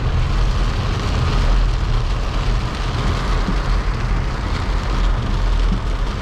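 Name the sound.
rain falling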